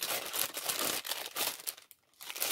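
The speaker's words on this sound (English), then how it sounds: "you've got some rustling" A plastic bundle bag rustles and crinkles close by in uneven bursts of crackling. Near the end the bag goes briefly quiet, then the rustling starts again, and nobody speaks.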